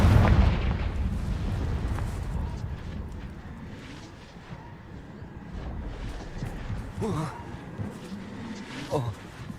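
Confringo blasting spell detonating in Hogwarts Legacy, a heavy booming explosion that starts loud and rumbles on with crackling debris, followed by smaller pops and impacts, while a voice speaks over it.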